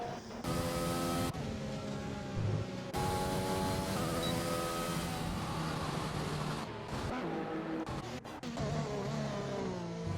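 A racing car at full throttle through a fast left-hand corner on the Brazil circuit, its engine a loud, sustained high-revving drone with steady pitch shifts throughout, no voices.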